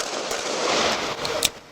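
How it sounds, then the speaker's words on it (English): A burst of gunshots fired in an alleyway, dense overlapping cracks over about a second and a half ending in one sharp loud report, with no talking. "219 shots fired. 219 shots fired."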